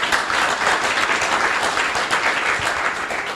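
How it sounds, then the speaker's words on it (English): A morning audience at a debate on criminal defamation breaks into full applause, a dense, continuous wash of clapping from many hands at a steady level. "let's give ourselves a round of applause in this audience this morning"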